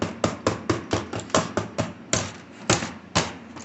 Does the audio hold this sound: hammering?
yes